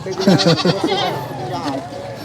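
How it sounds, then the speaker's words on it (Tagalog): Goats bleat loudly and close by at a busy livestock market in Negros. A few wavering calls overlap at the start, and people talk nearby. "Ang dami mong kambing ah."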